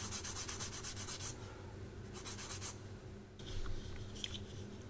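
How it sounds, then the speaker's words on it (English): Sanding a small plastic part from an Academy 1/72 scale Spitfire model kit by hand: rhythmic bursts of close, scratchy rubbing strokes, a quicker run at the start and a second run midway, with a low steady hum underneath. "So I'll just sand a bit more off this thing and allow it to fit a bit better."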